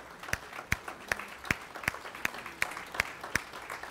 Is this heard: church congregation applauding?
yes